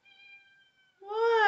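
A house cat meows: a faint, thin tonal cry at first, then after a short pause a louder, fuller meow close by, with no talk.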